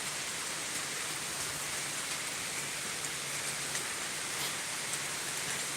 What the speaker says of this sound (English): Kind of rare for me to hear the water going down this drain pipe